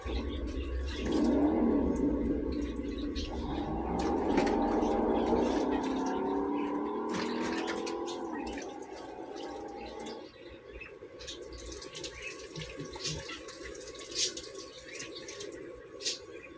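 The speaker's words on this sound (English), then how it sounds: "Wash the hands off." Tap water runs over hands as they are washed, a loud rushing splash that changes pitch as the flow is cut down to a lighter trickle with small clatters near the end.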